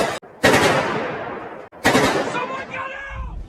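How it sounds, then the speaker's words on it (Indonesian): Shootout gunfire from the 2009 film Public Enemies, set in a forest during a police pursuit: sustained loud bursts of rapid automatic fire broken by short gaps, echoing close, with a brief trailing voice near the end. "John dan Red masih terlibat baku tembak dengan dua polisi yang terus memburu mereka"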